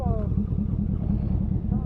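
A Kawasaki motorcycle engine idles or runs steadily nearby with a low, even rumble.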